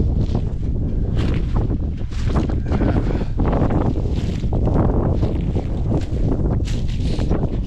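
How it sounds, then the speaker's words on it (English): Steady, loud wind buffeting the microphone outdoors at a winter tractor show, a continuous rumbling roar with gusty surges throughout. "Plenty windy around here today."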